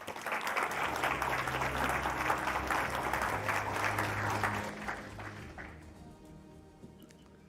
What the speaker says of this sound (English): A warm round of applause for Remy Eriksson, please.